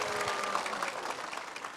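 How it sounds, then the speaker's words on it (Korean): A lecture hall audience at a Gwangju citizens' talk concert gives steady, even applause to welcome an author, a dense wash of clapping with no voices rising above it. "큰 박수 부탁드립니다."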